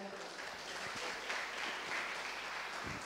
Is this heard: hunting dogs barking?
no